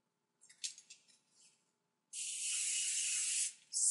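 Hairspray hisses from an aerosol can onto hair being styled into a bridal up-do: a few short, soft puffs, then one long, steady close-up spray, ending with a brief final burst.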